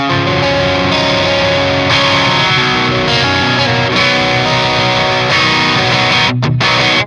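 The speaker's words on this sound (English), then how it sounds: "you can definitely get some cool crunchy tones" Electric guitar with a crunchy, overdriven amp tone on the neck pickup plays steady strummed and picked chords, loud and continuous, with a brief gap near the end.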